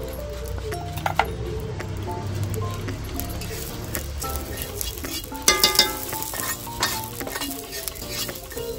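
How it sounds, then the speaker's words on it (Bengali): Whole coriander seeds fry in a pan, heard as a soft close sizzle with a utensil stirring and scraping, plus a short cluster of metallic clinks partway through. "আমি গোটা ধনে ভেজে নিচ্ছি।"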